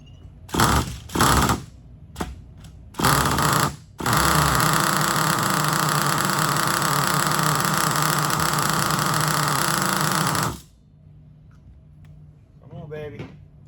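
A Hobao Hyper VT7 nitro RC car engine with a new LRP engine sputters in short bursts, then revs loudly and steadily for about six seconds before cutting out. A faint voice follows afterward.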